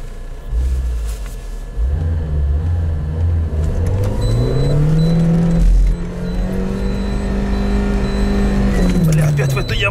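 A Lada Niva in first low-range gear pulls away on rough ground, its engine droning and rising through revs with a steady rumble inside the cabin, while voices talk over it.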